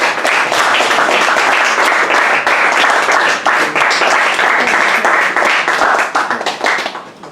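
Loud audience clapping at a writers' reading showcase, crisp individual claps blending into a full steady round that thins and fades out over the last second.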